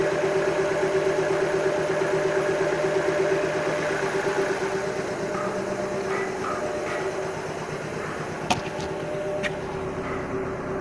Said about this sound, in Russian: Не дымит. Очень хороший мотор.